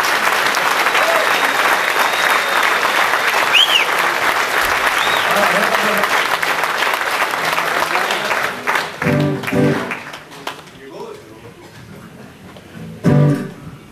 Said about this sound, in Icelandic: Ég ætla að biðja ykkur að klappa vel